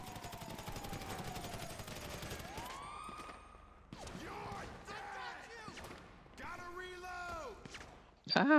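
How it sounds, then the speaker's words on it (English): Gunfire from police shooting at the player in a video game: sharp bursts of shots crack out repeatedly over a wailing siren and busy game noise, ending in a loud close bang. "why are they shooting at me?"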